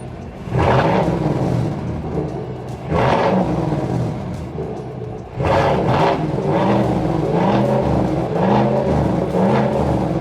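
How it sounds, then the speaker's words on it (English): A loud, deep aftermarket exhaust on a 2019-2024 Chevrolet Silverado Trail Boss pickup revs in three bursts, each throaty roar swelling and then settling into a rumbling idle, up close with no talking. "as you heard there, the exhaust on this truck is not stock"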